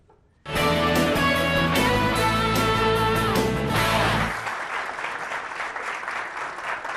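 A studio audience at a televised student spelling contest breaks into applause beneath a loud, bright musical jingle; the clapping carries on alone after the music cuts off.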